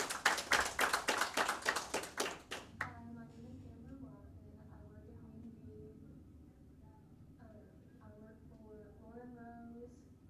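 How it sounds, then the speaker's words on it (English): Brief round of clapping from an audience honoring a graduate with a perfect test score at a class graduation, about three seconds of dense claps up front, then a quiet room with a voice speaking. "Clap it up for her"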